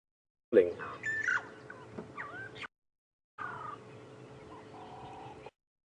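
Burchell's starlings calling on an evening safari drive in the South African bush, a burst of harsh chattering and squeaky whistled notes, then a pause and a second run of rasping calls, fairly near and alone.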